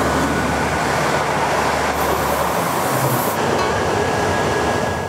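Train running on the Hamburg–Berlin line past the old Bergedorf station, heard as a steady, loud rumble and rattle of rail cars, continuous and fairly close, with no talk.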